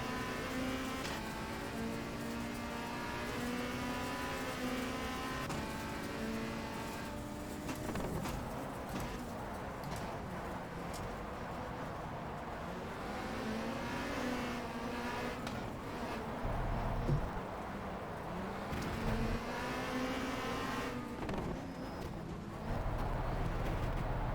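Race car engine in Race: The WTCC Game at the Race of Mexico in Puebla, a steady droning whine that rises and falls with gear changes, continuous throughout with faint bumps and scrapes.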